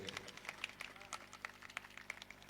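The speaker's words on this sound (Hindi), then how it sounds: "थोड़ा तालियां बजाते रहिए।" An audience at a Shri Ram Katha religious gathering claps in a steady, uneven patter, with someone speaking loudly over the applause throughout.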